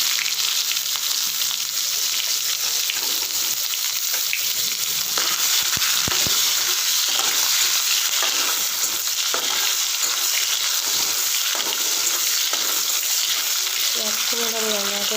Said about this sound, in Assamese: এতিয়া মই পিঁয়াজখিনি ভাজি দিম।